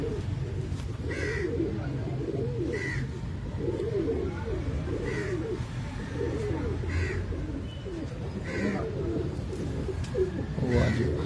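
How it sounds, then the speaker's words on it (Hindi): Pigeons coo softly in repeated low, throaty rumbles over a steady outdoor hum, with faint chirps of other birds and distant voices in the background. "अच्छा कबूतर है।"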